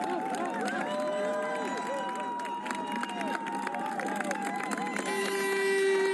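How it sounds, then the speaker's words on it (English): Spectators line a marathon course, cheering and clapping as elite runners pass in a race featuring Kenenisa Bekele. The crowd makes a continuous, moderately loud noise, with shouts and whistle-like calls rising over steady babble. "Very encouraging crowd along this course."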